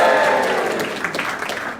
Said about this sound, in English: Can I get everyone to give a big cheer out,